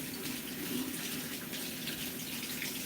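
Running tap water pouring over a mesh strainer being rinsed, a steady close hiss and splash with no pauses and no talking.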